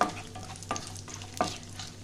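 Raisins frying in oil for basanti pulao, giving a soft, low sizzle with two brief stirring clinks, close by and fairly quiet, with no voices.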